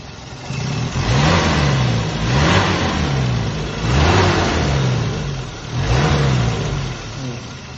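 An old 1983 Toyota Kijang pickup engine revs up and down in repeated cycles, a rough, loud mechanical drone rising and falling roughly every two seconds.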